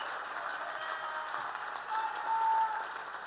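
Audience applause at a teachers' union lobby day event, a steady, fairly faint wash of clapping from a large crowd that swells briefly near the end.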